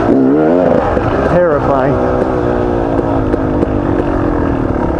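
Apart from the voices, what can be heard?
four-wheelers (ATVs) passing on a trail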